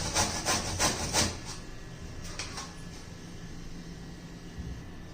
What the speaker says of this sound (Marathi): अजून सर्व भोपळा किसून घेते.